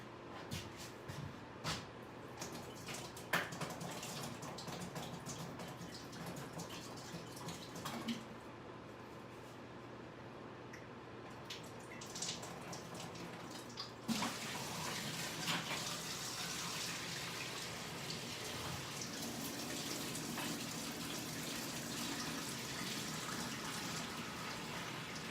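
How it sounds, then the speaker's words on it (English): Water poured out of a whiskey barrel that had been sealed up for bourbon aging, a steady gushing and splashing that thickens partway through and runs on continuously, with no one talking. "let me dump this water out."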